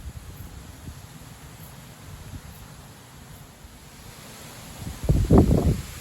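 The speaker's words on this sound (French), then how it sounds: "Voilà, il y a des rafales là." Strong night wind gusts around 60 km/h make a low, fluttering rumble that buffets the microphone, then swell into a louder blustery burst near the end.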